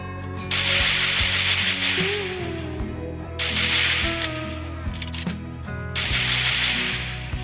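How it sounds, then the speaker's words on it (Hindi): Spray sounds played through Wings Phantom 340 transparent TWS ANC earbuds during a gaming-mode test: three loud, bright hissing bursts, each lasting about a second, with a steady low rhythmic thumping underneath. "एंड अब हम इसकी स्प्रे को यूज करेंगे।"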